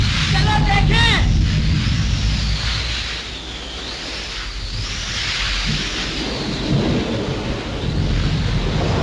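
Stormy weather in a 1937 Hindi film: a steady roar of rain and wind, with rumbling thunder rolling through, loud and continuous, while a voice speaks briefly near the start.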